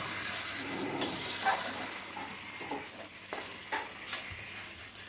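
Egg korma masala sautés in a pan, giving a continuous sizzle with scattered scrapes and clicks from stirring, steady and close.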